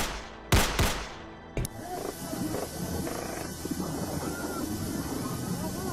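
Gunfire in a scene about the Colombian drug lord Pablo Escobar killing his enemies: two or three loud, sharp shots close together at the start, then another, trailing into a dense, rumbling ambient background.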